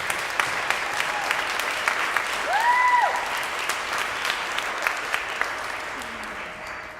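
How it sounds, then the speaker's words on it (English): Applause from an awards-ceremony audience fills the room steadily, swelling briefly in the middle before easing off, with a short whistle-like tone rising above the clapping. "give her another round of applause"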